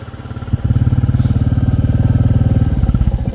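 A motorcycle engine chugs loudly and steadily close by on a wet road, its rapid rhythmic putter swelling after a moment and holding through to the end.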